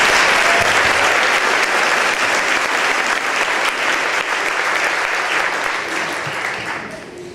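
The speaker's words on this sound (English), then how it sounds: "give yourself a big round of applause." A large ceremony audience in a university hall breaks into a sustained round of applause, dense and loud throughout, thinning slightly toward the end.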